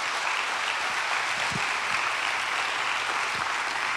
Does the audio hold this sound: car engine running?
no